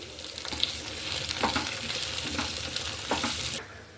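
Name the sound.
capsicum being stir-fried for chilli chicken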